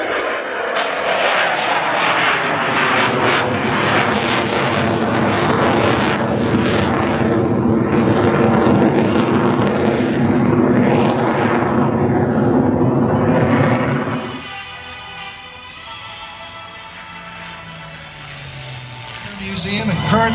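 Jet aircraft climbing at the California Capital Airshow: a loud, close roar with a sweeping, shifting tone that cuts off abruptly after about fourteen seconds, leaving a quieter, distant hiss and rumble.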